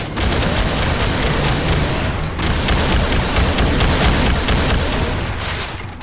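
Grenade blasts and heavy gunfire in the Doom mod Project Brutality fill the clip with a loud, continuous roar of booms and rapid shots, dipping briefly once in the middle.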